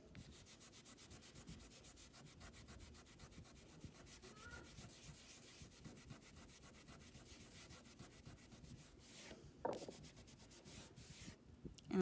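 Steady soft rubbing of Norwex cleaning paste onto a spot, a continuous close scrubbing texture that carries on alone with a few brief louder scuffs near the end.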